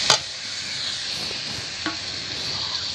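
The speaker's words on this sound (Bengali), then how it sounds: "দিয়ে খুব ভালো করে আমি শুকনো করে নেড়ে নেব" Banana flower and ground pointed gourd seed filling being stirred and dry-fried in a pan: a continuous soft hiss with a couple of sharp utensil scrapes against the pan.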